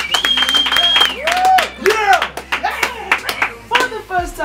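Scattered hand claps from a small radio studio audience at the 1912 online station ring out in sharp, uneven bursts, closely mixed with lively voices and whistling that stay prominent throughout.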